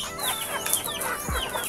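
Broiler chickens about 45 days old cluck in a backyard, a short, close burst of several overlapping clucks and calls.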